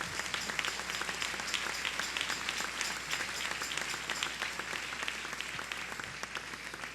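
Sustained applause from a church congregation at a worship service, steady and fairly distant-sounding, filling the whole stretch without pause.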